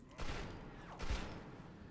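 Two booming, echoing shots from a VATS-enhanced Two Shot Gauss shotgun in Fallout 76, fired a little under a second apart, each followed by a rolling tail of noise.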